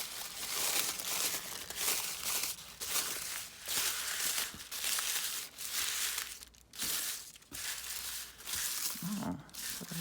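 Tissue paper being handled for coffee-dyed marbled paper crinkles and rustles in repeated close bursts, with brief pauses between handfuls.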